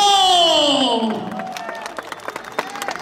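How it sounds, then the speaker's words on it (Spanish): A rodeo crowd at a ranch event in San Andrés Coru applauds with scattered claps after a loud, drawn-out voice. The clapping starts loosely and sounds a little distant. "Rancho La Herencia de Aristeo, venga el aplauso"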